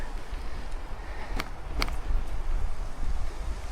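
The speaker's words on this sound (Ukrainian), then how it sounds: "Ой, гарно, вітер роздуває, освіжає." Steady wind rushing past the microphone in a continuous broadband roar, with a couple of faint clicks underneath.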